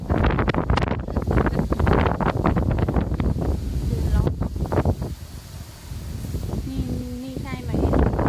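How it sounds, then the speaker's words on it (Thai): Strong wind buffets the microphone during mushroom picking in the rain, heavy gusting rumble that rises and falls, with a person talking over it. "แล้วก็ลมแรงด้วยนะคะ"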